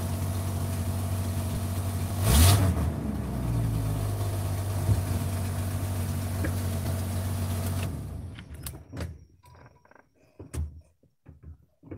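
The engine of a budget DIY hot rod idles steadily with a low, even rumble and one brief rev, then cuts off into near silence broken by scattered clicks and knocks.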